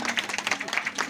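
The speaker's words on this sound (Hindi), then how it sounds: "बजाओ ना ताली।" A crowd at a Hindu religious discourse on the Shrimad Bhagavat Katha claps together in quick, dense, uneven bursts, a short loud round of applause close by with a faint voice underneath.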